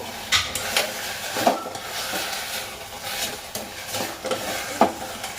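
Leafy greens sautéed in oil, with a steady sizzle and frying hiss beneath repeated scraping stirs of a spoon against the pan, close and moderately loud.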